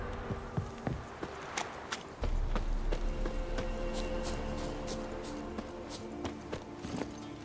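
Horse hooves clip-clopping in The Witcher 3 video game, a steady walking rhythm of distinct hoof strikes, fairly close and moderately quiet, with a low ambient rumble coming in partway through.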